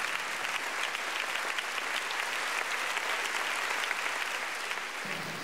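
Steady, dense applause from an audience at a choir's finale performance, honoring the song's co-author, heard as a thick wash of clapping throughout without speech.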